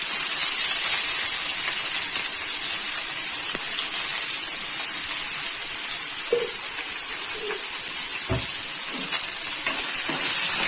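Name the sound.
sliced onion frying in hot oil in a kadai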